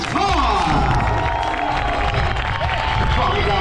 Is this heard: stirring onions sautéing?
no